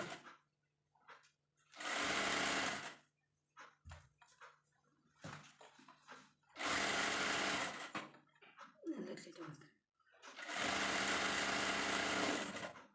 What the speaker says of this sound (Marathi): हे बघा सारखं शिवून घ्यायचं